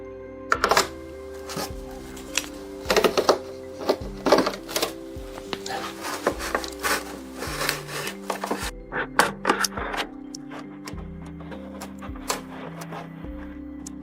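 Material for a homemade nativity scene is cut by hand, giving a close series of uneven rasping, scraping strokes with brief pauses, dry and woody in texture, with no talking.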